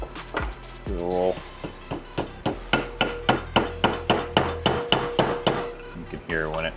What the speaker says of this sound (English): You can hear when it centers because it starts making kind of that metal on metal.